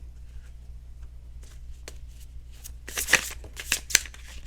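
Quiet room hum, then a deck of cards is shuffled in a few quick, crisp riffling bursts near the end.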